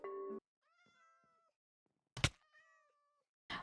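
Minecraft cats meow several times, clear harmonic mews near and alone against silence, broken by a few short thunks and clicks from the game.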